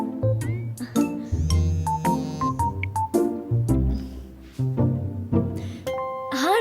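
A melodic phone ringtone chimes through a series of bright, repeating tones, loud and close, looping without any voices.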